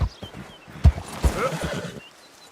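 A video-game horse whinnies and its hooves clip-clop in a short burst of a few heavy beats, ending with a fading neigh.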